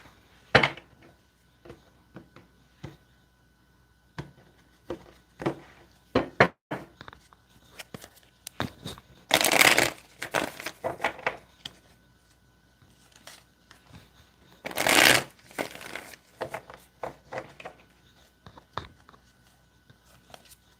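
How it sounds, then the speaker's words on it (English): A tarot deck is shuffled by hand, with scattered soft taps and clicks of cards and two louder riffling bursts, close and without talk. "Let me get two more shuffles here."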